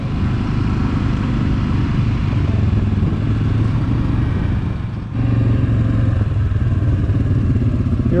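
ATV engines roaring steadily on the ride to the Leota trailhead in Michigan, a loud, close, continuous drone with rattling clatter and a brief dip in the middle, with no voices.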